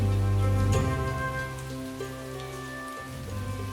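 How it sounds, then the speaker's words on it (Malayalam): Rain patters steadily beneath sustained musical tones and a low drone, with no one speaking. "മഴ വളരെ കൂടുതലാണ്, എന്റെ കുഞ്ഞുങ്ങളും നനയുന്നുണ്ട്"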